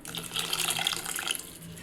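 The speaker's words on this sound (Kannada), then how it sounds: "ಸ್ವಲ್ಪ ನೀರು ಹಾಕ್ತಾ ಇದ್ದೀನಿ" Water is poured into a pot of South Indian buttermilk curry (majjige huli) already holding tomato and salt, a steady splashing pour that runs for about a second and a half before easing off, with no talking.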